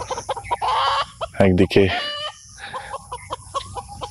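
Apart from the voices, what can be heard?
chickens clucking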